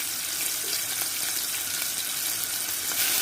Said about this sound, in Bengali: রসুনগুলো ব্রাউন হয়ে গেছে, এখন আমি অনিয়নটা দিয়ে দিব।